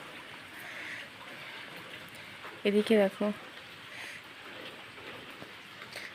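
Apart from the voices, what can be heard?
heavy rain falling outside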